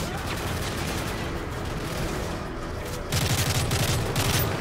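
Sustained hip-fire gunfire from Modern Warfare 3 under a noisy battle ambience, swelling into a louder, steady rapid-fire burst in the final second and a half.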